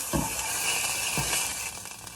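Food sizzles steadily in a hot pan in a home kitchen, a continuous close frying hiss with a couple of brief stirring clatters and no talking.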